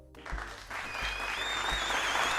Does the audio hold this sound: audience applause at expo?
yes